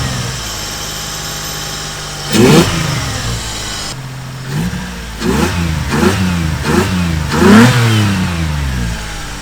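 Car engine with a newly fitted aftermarket exhaust, revved hard in a series of quick blips: one sharp rev, a pause, then several rapid throttle stabs rising and falling over a steady idle rumble, loud and close.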